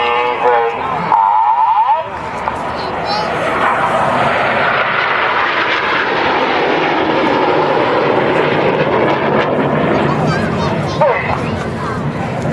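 Red Arrows jets roar overhead in formation at the 2016 Herne Bay Airshow, a loud, sustained engine rumble that holds steady throughout, with faint crowd chatter beneath.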